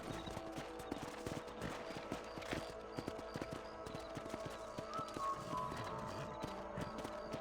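A horse's hooves clip-clop at a steady walking pace in the video game Red Dead Redemption, a continuous rhythmic patter of hoofbeats with faint game ambience underneath.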